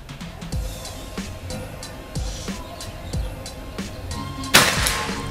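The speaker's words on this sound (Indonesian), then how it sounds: "Sekarang tembakan yang ketiga." A sharp single shot from a Predator Escobar PCP air rifle near the end, preceded by several dull thumps and faint background noise outdoors on a 50-meter range.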